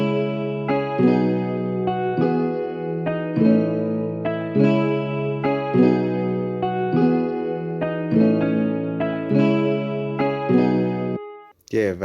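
A plucked guitar instrument from Spitfire LABS, played inside FL Studio for an Afrobeat track, repeats a looping melodic phrase of clean, ringing notes. The loop cuts off abruptly near the end.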